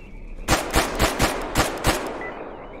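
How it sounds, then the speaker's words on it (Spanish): Gunfire in the video game STALKER: Anomaly: six sharp, loud shots in a quick, fairly even burst lasting under two seconds, with a short quiet tail after. "Hay tiros por todos lados ahora."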